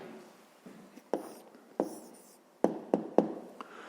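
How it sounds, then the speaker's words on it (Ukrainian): A pen writes an answer to a fifth-grade decimal-fractions math exercise, giving soft scratchy strokes punctuated by several sharp taps on the paper, quiet and close. "Ну що ж, записуємо тоді відповідь."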